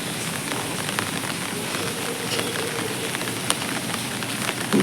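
Steady rain falls on a rooftop garden full of potted plants and flowers, a dense continuous patter with a few sharper drops landing close by, no voices.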